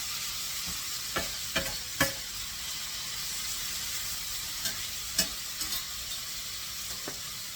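Red snapper fillets and shrimp with tomatoes and zucchini fry in a pan with a steady soft sizzle, broken by several sharp scraping clacks of a utensil stirring, close and fairly quiet.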